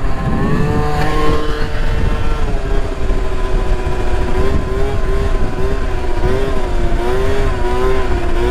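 A motorcycle with a missing throttle grip revs hard and holds a high, wavering engine note through a wheelie, loud and close with no pauses.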